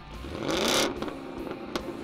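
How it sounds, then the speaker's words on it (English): Truck engine revving through a performance aftermarket exhaust, a loud throaty surge that swells and falls back, with a sharp blip near the end, close up and alone. "We hook you up with some mean exhaust that will not disappoint."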